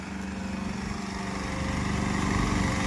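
A BCS Power Safe 742 two-wheel tractor engine with a trolley attachment runs steadily at close range, a continuous throbbing drone that grows slightly louder toward the end.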